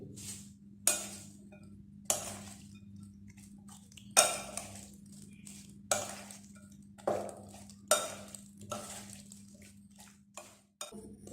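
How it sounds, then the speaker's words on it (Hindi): Fresh cream is stirred into a bowl of fruit chaat. A spoon scrapes and clinks against the bowl in regular strokes about every two seconds, close and clear over a steady low hum. "लास्ट में हमने ऐड करना है ऑल पर फ्रेश क्रीम, वो अच्छी तरह मिक्स कर लेंगे।"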